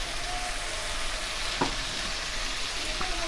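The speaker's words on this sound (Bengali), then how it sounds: "আমি মশলাগুলোকে ভালো করে একটু নাড়িয়ে দিচ্ছি, কষিয়ে মিশিয়ে দিলাম" Ground coriander, turmeric and chili powder fry in a pan for a soybean dish while being stirred, giving a constant close sizzling hiss with one brief scrape of the spoon partway through.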